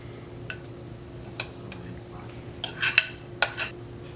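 Turkey lasagna filling being scraped from a bowl into a dish, heard as a few scattered clinks and scrapes of utensil on dishware that build into a louder cluster of clatters near the end, close by, over a low steady hum.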